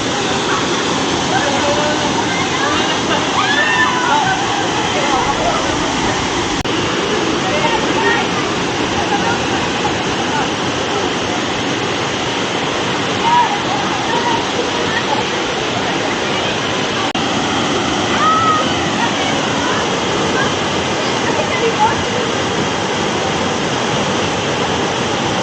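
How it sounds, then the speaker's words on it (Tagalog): Daong Falls on Samal Island pours in a steady, loud, broadband roar of falling water that fills the scene without a break, close and constant throughout. "nasa likod ko ngayon yung tinatawag na Daong Falls nila dito"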